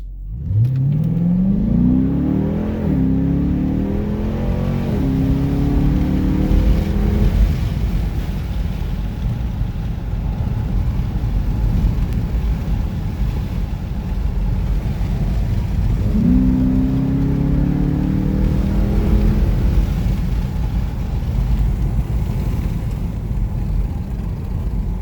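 Dodge Durango RT V8 in sport mode, fitted with aftermarket mods, revving hard through wide-open pulls: loud rising engine sweeps climbing through gears, a long run then a second surge later, with steady road and wind roar between.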